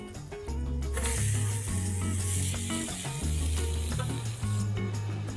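Steady close sizzle of brown bread French toast frying in butter in a pan, continuous crackle throughout with a low background tone under it, no voices.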